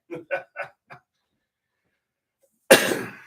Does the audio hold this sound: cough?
yes